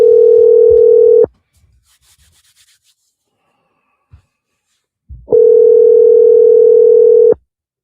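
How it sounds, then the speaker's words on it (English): A telephone line tone sounds after a call is disconnected: a loud, steady electronic tone plays for about a second, stops for a few seconds of near silence, then returns for about two more seconds. "Your call is disconnected."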